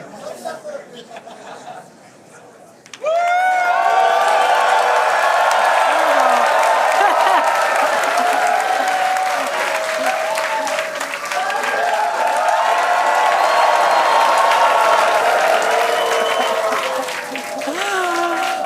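A crowd at a Starship launch site bursts into cheering, whooping and applause after a brief quieter lead-in, then sustains a loud, excited roar of many voices.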